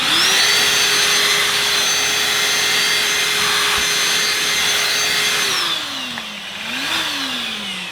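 A Dyson DC16 Animal cordless handheld vacuum whines steadily and loudly up close, then its pitch drops and wavers near the end as it works over upholstery and a rug.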